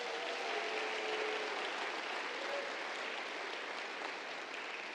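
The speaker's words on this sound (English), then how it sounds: "Can we give another round of applause for Dr. Brennan?" An audience at a MEX Talks 2024 event applauds Dr. Brennan with a steady, even wash of many hands clapping. It sounds somewhat distant and faint, with no voices over it.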